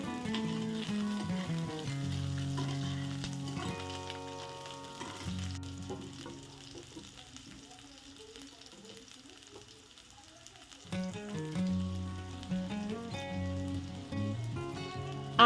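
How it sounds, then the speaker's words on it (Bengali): Radish, eggplant and potato sizzle and fry in spiced oil seasoned with dried chilli, a steady close crackle that eases in the middle and swells again, with soft background music. "তারপরে আমি একে একে মূলো, বেগুন, আলু সব সবজিগুলো দিয়ে হালকাভাবে কষিয়ে নেব।"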